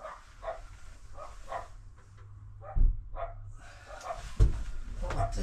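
Dogs bark in a series of short, repeated yaps, fairly close, over a steady low background hum, with a louder thump partway through.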